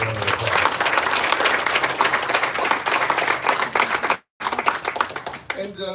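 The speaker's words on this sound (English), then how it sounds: "Give them another round of applause." A crowd at a Vietnam fallen warriors monument dedication gives loud, sustained applause, with a thick texture of many hands that breaks off for a brief moment near the end and then resumes.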